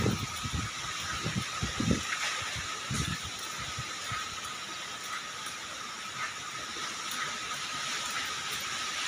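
Strong wind roars as a steady, loud rushing hiss throughout, with a few low buffeting thumps near the start.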